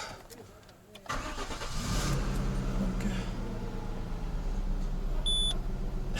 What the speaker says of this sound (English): I like the way this engine starts, man.